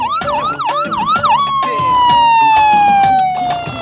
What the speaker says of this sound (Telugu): అంబులెన్స్ వచ్చేసిందయ్యా